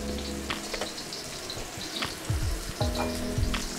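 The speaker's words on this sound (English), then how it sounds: "So what we're gonna do here is we're gonna sear our meatballs." Braised Lion's Head pork meatballs are seared in batches in a hot pan, giving a steady, close frying sizzle broken by a few clinks and knocks of utensils.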